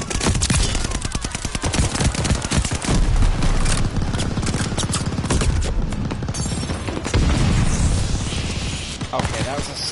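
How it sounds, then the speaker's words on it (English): A stun grenade going off amid dense, continuous gunfire in a Call of Duty Vanguard match on the cramped Shipment map, loud and chaotic throughout, with voices mixed in. "that was a stun grenade, not a grenade game"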